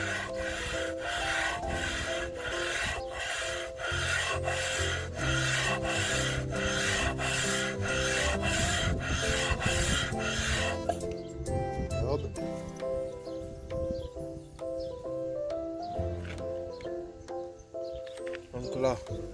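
A Benelli TNT 125 cylinder head being sanded flat by hand, heard as a steady, regular back-and-forth rasping rub, close and loud, that later turns slower and more irregular, with a voice talking at times.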